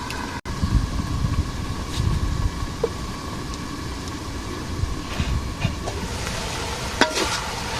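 Water spinach greens frying in a pan, a steady close sizzle and crackle with faint clinks of a utensil, no talking.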